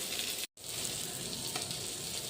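Sardine fish fry in a pan on medium flame, giving off a close, steady hiss and sizzle with a brief dropout near the start before the frying noise resumes evenly.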